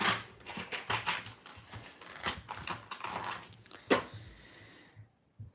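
Typing on a computer keyboard fitted with pretty keycaps, quick close clacks in uneven bursts with brief pauses, moderately quiet, fading out near the end.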